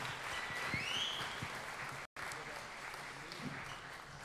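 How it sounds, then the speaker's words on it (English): Audience applause at a squash tournament, a steady hiss of clapping at moderate distance with a brief dropout in the middle; a whistle-like sweep rises early on. "how about a round of applause for Nikki Todd?"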